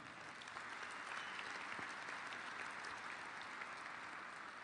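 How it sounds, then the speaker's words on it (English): Steady applause from a seated audience at an Illinois concealed-carry gathering, a dense even wash of many hands clapping, moderately distant and unbroken for the whole stretch. "Give yourselves a round of applause"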